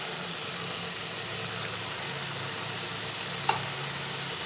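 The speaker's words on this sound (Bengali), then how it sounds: "ঢেলে দিয়ে আবার ভালোভাবে পুরোটার সঙ্গে ছানাটা আর আলুটা একসঙ্গে মিশিয়ে দিলাম" Chhana and potatoes being stirred together with spices in a frying pan give a steady, close sizzle with faint scraping, and a single brief click lands near the end.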